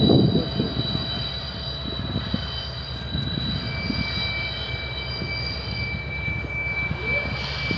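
A Union Pacific freight train led by an EMD locomotive arrives at Roseville with a steady rumble, rolling wheel noise and a thin high wheel squeal, close and continuous throughout.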